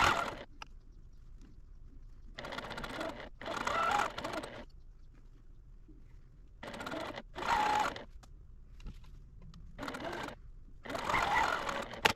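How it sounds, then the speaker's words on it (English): A sewing machine stitches quilt block pieces in several quick bursts of rapid whirring and clattering, separated by short quiet pauses. "let's take this over to the sewing machine and sew one side of them"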